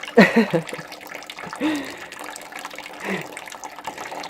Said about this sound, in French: c'est une source qui ne s'arrête jamais